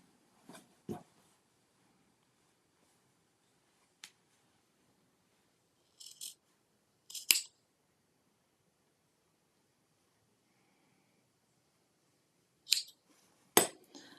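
Scissors trimming the corner of a quilt binding: a handful of short, crisp snips spaced irregularly apart, with near-silence between them.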